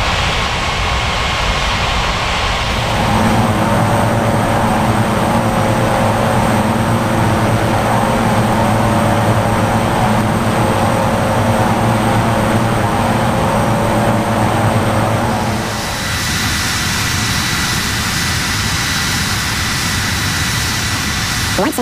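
A jet airliner accelerates for takeoff on runway 14 right at São Paulo, a loud, steady roar that swells after a few seconds, holds strong and broad, then shifts in tone near the end as the aircraft passes.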